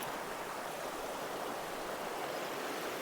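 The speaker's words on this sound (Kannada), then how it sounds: "ನದಿ ಹರ್ಕೊಂಡು ಹೋಗ್ತೈತೆ, ಅದ್ರ ಮಧ್ಯೆ ನಿಂತಿದ್ದೀವಿ." A river rushes past on all sides in the Agumbe area of Shimoga district, a dense, even roar of flowing water that stays loud and steady throughout.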